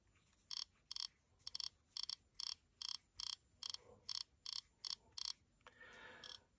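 A quick series of about a dozen crisp plastic clicks from an iPod click wheel in a steady rhythm, close up and quiet, with a soft rustle at the end.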